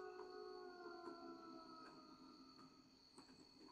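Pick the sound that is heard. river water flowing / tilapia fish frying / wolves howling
wolves howling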